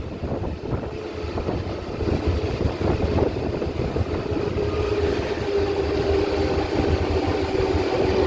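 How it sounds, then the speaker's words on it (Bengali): An EMU local train running from Howrah towards Digha passes through Andul station, a steady loud rumble and engine-like drone with rushing wind noise throughout, no voices. "আমাদের ট্রেন ক্রস করছে আন্দুল।"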